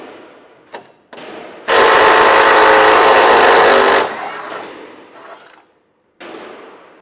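A power tool zips out bolts on a 2024 Chevrolet Silverado's front end, one loud sustained burst of about two seconds between short knocks and handling clatter.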